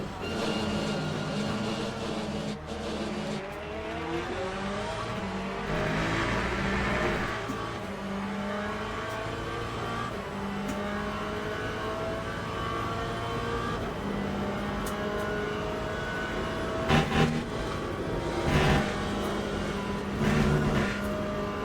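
Corvette Z06 LMGT3.R race car engine in Le Mans Ultimate at Spa, droning steadily and loud throughout with shifting revs, a following car in racing traffic, brief sharper bursts near the end.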